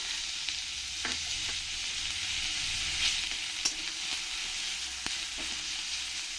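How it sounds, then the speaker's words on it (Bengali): Crushed garlic fries in hot oil, a steady soft crackling sizzle with a few light stirring knocks, nearby but fairly quiet, with no talking. "দিয়ে ভালো করে একটু লাল লাল করে আমি ভেজে নেব"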